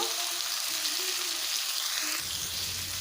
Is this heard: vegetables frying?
yes